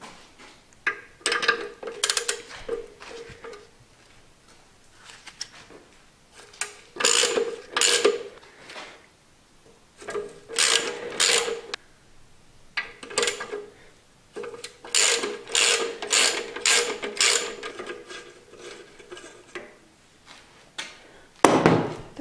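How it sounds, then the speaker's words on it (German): Ratchet wrench with a 13 mm socket loosening three rusty nuts on an Opel Astra, a close, repeated metallic clicking in several separate bursts with short pauses between them. "Jetzt die drei Muttern abschrauben mit einer 13er Nuss."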